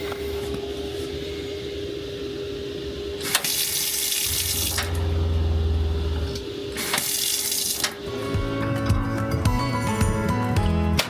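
Water runs from a solar-powered tap into a van's kitchen sink, a steady splashing stream with a low hum beneath it, briefly surging louder twice before a clattering of other noises near the end.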